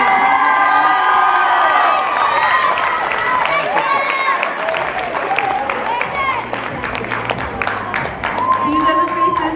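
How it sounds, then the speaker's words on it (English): Audience at a talent competition applauds and cheers loudly for the judges, with steady clapping, whoops and shouts across the whole stretch, under a few voices. "Can we get another big round of applause for our judges tonight?"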